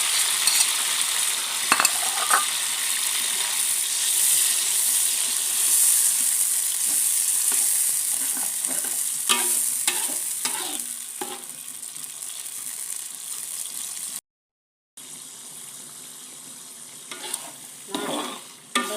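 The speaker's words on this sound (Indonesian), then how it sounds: "sekarang saya mau tumis ya sambalnya ya" Sambal being stir-fried in a pan, a steady close sizzle with repeated scraping and stirring strokes of a spatula throughout, broken by a brief silent gap near the end.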